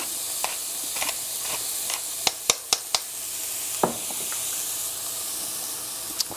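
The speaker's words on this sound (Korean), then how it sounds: "뜨거울 때 얼른 볶아요. 프라이팬 뜨거울 때." Vegetarian noodle ingredients stir-fried quickly in a hot frying pan, a steady sizzle broken by sharp utensil clacks and scrapes, several in quick succession, close and fairly loud, with no talking.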